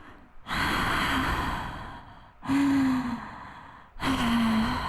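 Three loud, heavy breaths close to the mic, each a long rasping exhale with a slight voiced groan, separated by short pauses.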